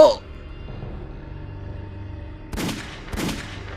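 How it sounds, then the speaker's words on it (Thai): Two sharp, booming gunshots from a rooftop ring out a moment apart against a quiet, low background hum. "ทำไมเสียงปืนถึงดังมาจากดาดฟ้าข้างบนล่ะ"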